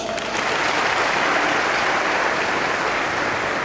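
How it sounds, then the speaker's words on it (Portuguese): A church congregation applauds for the Tabernacle choir with a steady, dense burst of clapping that holds at an even level throughout the short stretch. "assim como também o nosso coro tabernáculo Palmas."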